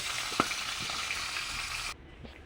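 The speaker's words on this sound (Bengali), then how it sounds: "এক এক করে মাছটা গরম তেলে দিয়ে ভেজে নিচ্ছি" Magur fish sizzling steadily in hot oil for about two seconds, a bright frying hiss with a small clink as a piece is turned, then the sizzle cuts off abruptly to quiet.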